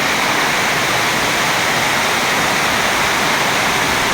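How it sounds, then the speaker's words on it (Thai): Floodwater rushes into a garage during heavy rain, a loud, steady, close roar of pouring water that fills the whole moment without a break or any voices. "น้ำหลากครับน้ำหลากหลากไหลเข้าอู่อุดมสมบูรณ์สุดๆ"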